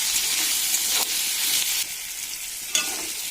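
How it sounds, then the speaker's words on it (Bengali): Potatoes and eggplant seasoned with salt and turmeric frying in a pan, a steady bright sizzle and hiss broken by a few stirring scrapes, close and alone. "ভালো করে ভাজা হয়ে গেছে আলু আর বেগুন"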